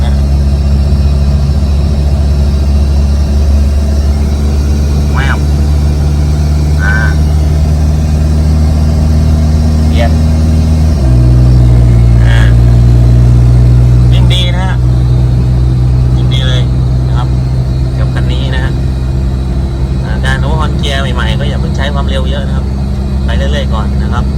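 An Isuzu D-Max pickup with a 4JK1 engine and a gearbox fault that leaves it driving in only three gears drones steadily on the move, its pitch stepping down partway through, while someone talks over the loud cabin noise.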